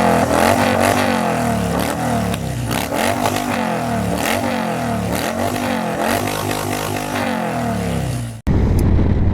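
Harley-Davidson Electra Ultra Classic heavy touring motorcycle on the move, a loud, close, rumbling engine note that rises and falls with throttle under steady wind roar, ending in a sudden cut to quieter road noise.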